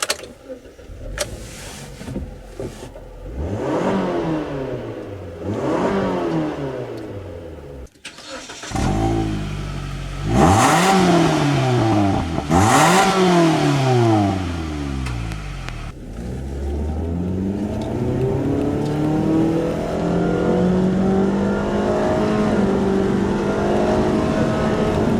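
A 2013 Mitsubishi Lancer Sportback GT starts up, then accelerates through several gears, each pull rising in pitch before a shift drops it back, loud and close from inside the car.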